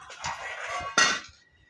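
A metal lid set onto a cooking pot for dum steaming lands with one sharp, close clank after a brief rattle of handling, then the ring fades quickly.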